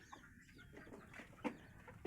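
A chicken in a rural provincial yard clucks softly a few times, faint and close, over low background noise.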